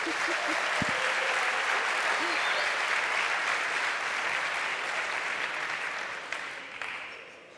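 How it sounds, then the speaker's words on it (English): Conference audience at a talk on AI communication patterns breaking into full, sustained applause, a dense roar of many hands that holds steady for several seconds before tapering off near the end. "A big applause."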